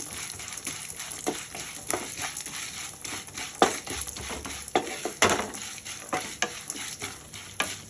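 Ingredients for an oats dish stir-fry in a pan, a close sizzle broken by frequent quick scrapes and light taps of a spatula in an uneven rhythm throughout.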